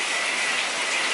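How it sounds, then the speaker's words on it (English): Heavy rain pours down steadily in San Juan, Puerto Rico, a dense, loud, continuous hiss with no break and no voices. "Freaking pouring down rain, number three."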